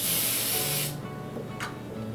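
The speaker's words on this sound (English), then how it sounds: "We're gonna spray it with the baking spray that includes flour." Baking spray containing flour hissing from an aerosol can into mini loaf pans, one steady close spray burst of about a second followed by a brief second puff.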